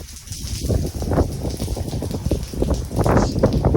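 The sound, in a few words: strong wind during Hurricane Hanna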